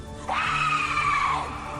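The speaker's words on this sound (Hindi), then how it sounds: "फिर अचानक छलावा ने एक तेज चीख मारी।" A phantom in a horror cartoon lets out a single shrill, sustained shriek lasting just over a second. It starts abruptly, holds steady, then fades out over a faint background.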